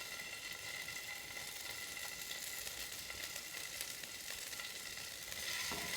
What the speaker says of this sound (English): It should sizzle when you put it in.